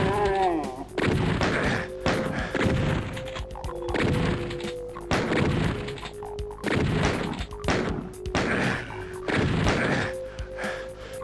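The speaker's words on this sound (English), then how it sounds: "You're shooting me." Enemies in Doom open fire in a run of heavy, booming blasts spaced about a second apart, each a loud crashing burst over a sustained electronic tone, with brief speech early on.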